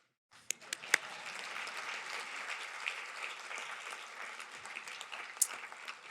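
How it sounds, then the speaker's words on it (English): An audience at a Naval War College graduation ceremony breaks into applause after a short silence, with a few sharp early claps before a steady spread of clapping settles in and carries on evenly. "You can clap, it's okay."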